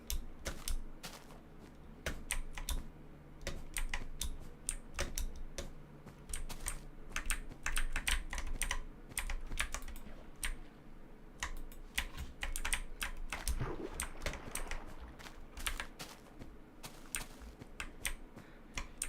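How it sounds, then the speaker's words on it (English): Fast typing on a very loud computer keyboard, sharp close clacks in rapid irregular bursts with brief pauses, over a faint background hum and game music. "Yes, I have a excruciatingly loud keyboard."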